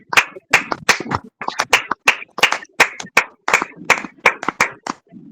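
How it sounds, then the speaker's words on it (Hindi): A church congregation at a Sunday prayer service claps loudly in a steady, rhythmic beat, with sharp, evenly spaced claps and no talking. "आइए हम इस वचन के लिए ऊंचे ताली के द्वारा परमेश्वर की महिमा करें।"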